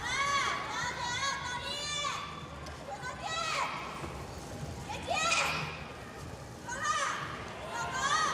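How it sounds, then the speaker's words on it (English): Teammates cheer and shout high-pitched encouragement for a gymnast during the uneven bars final at the 2022 World Championships in Liverpool, in repeated bursts over a steady arena crowd murmur. "We can hear her teammates cheering."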